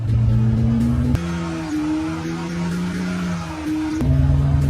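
A flood-damaged BMW, restored to running, revs hard as it shifts up through the gears: a loud engine drone that climbs in pitch, dips abruptly at each gearchange and climbs again, heard up close.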